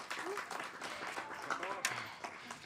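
An audience at a women's Erev Shabbat service applauds and cheers in a brief burst of clapping, with a voice speaking over the applause.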